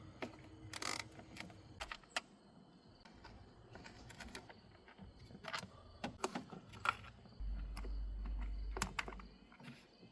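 A wrench loosens 10mm bolts on a plate over the knock sensors of a 1999–2006 Chevy Silverado engine, producing scattered close metallic clicks and ratcheting ticks at irregular intervals, with a low rumble partway through.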